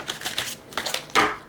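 Tarot cards being shuffled by hand, a few quick papery riffles and flicks in short bursts, close and fairly loud, the last burst sharpest.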